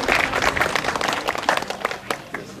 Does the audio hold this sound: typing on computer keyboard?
no